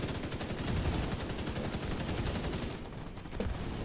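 Dense, continuous automatic gunfire from a raid in the video game The Division 2, loud and close, rapid shots blending into a sustained roar that thins slightly near the end.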